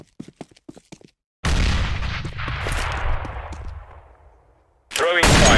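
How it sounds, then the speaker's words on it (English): A grenade explodes in the Counter-Strike map de_dust: after a few faint clicks, a loud, sudden boom starts and rumbles off over several seconds, and another loud burst of gunfire-like noise comes near the end. "throwing a grenade."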